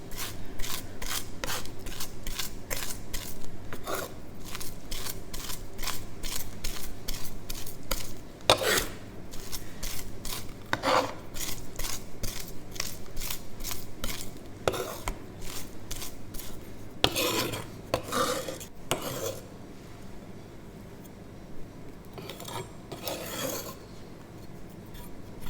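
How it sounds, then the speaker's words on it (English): A knife rubs and minces food against a cutting board in a home kitchen, making fast rhythmic rasping strokes that continue steadily, then turn into fewer, heavier scrapes near the end. "going to mince this by rubbing my knife through it"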